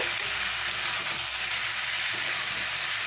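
Ground ginger, whole cumin and green chili paste sizzle in hot oil in a pan for a fish curry, a steady, close hiss of frying with no talking.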